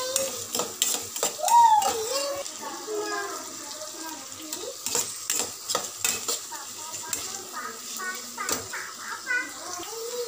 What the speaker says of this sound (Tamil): எல்லாம் சேர்த்து நல்லா மிக்ஸ் பண்ணி வதக்கிக்கிறேங்க.